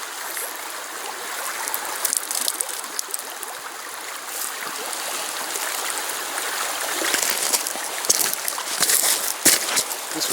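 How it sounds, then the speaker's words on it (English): Something is dunked and squeezed in water to rinse out tannins, giving a continuous close splashing and trickling with wet swishes that grow busier toward the end. "I'm going to keep dunking in that water and squeezing it until all those tannins are out."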